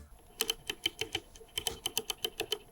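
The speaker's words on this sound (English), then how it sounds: "You've got this knurled input selector here, which sounds fantastic." The knurled input selector knob on a Cambridge Audio Evo 150 amplifier being turned, giving quick, crisp mechanical clicks in two rapid bursts, close up and fairly quiet.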